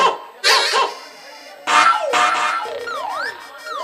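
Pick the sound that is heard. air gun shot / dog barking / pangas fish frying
dog barking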